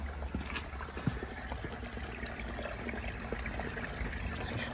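Water running steadily from an opened valve on a home heating system, a continuous close trickling and pouring stream with faint clinks, no talk over it.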